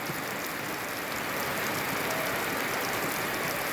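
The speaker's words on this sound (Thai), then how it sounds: "ฝนตก" Steady rain pouring down outdoors in rural Thailand, a dense, even hiss with faint patter on surfaces, constant throughout with no voices.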